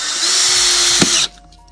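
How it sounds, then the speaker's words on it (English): A power drill with a countersink bit drives a screw into a wooden brace inside a DIY speaker cabinet, a loud steady high whine for over a second that stops abruptly. "I'm using a bit that lets me sink the screw head into the wood"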